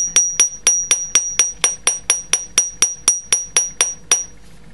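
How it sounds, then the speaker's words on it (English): A chasing hammer strikes wire laid on a steel bench block for jewellery work, about fifteen sharp ringing metallic blows in a steady even rhythm, close and loud, with no talking. "do a little hammering with a chasing hammer, just hammering that flat."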